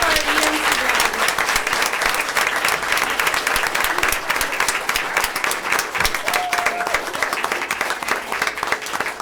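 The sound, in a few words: applause for graduates at a board of education meeting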